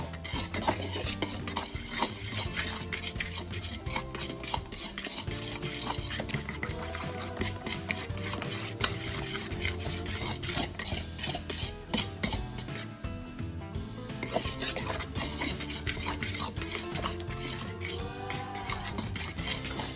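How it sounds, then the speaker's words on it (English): Banana pancake batter is stirred in a bowl, a close, rapid run of utensil clicks and scrapes against the bowl that continues steadily throughout, with no voices. "Stir gently until the batter is just incorporated."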